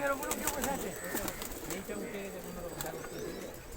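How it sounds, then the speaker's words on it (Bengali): A loft crowded with many pigeons gives off overlapping low cooing calls, close and continuous, with occasional flutters and chirps mixed in. "চারিদিকে খালি পায়রা।"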